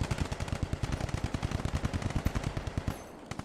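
Rapid bursts of small arms gunfire in a video game, dense and loud with repeated sharp shots packed together before tapering off near the end.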